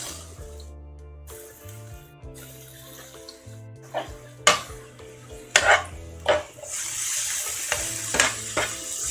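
Mushrooms and garlic are stirred in a frying pan, with a steady sizzle under the clatter of utensils. Several sharp scrapes and knocks of the spoon against the pan stand out near the middle of the clip.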